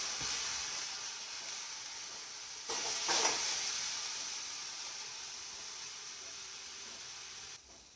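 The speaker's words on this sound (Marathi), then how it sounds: "तर कांद्यामध्ये कोथिंबीर आता भाजून घेतली चांगली." Chopped onion and coriander frying in a pan for spicy poha, with a soft, steady sizzle and a brief burst of stirring scrapes partway through, quiet and close with no voices.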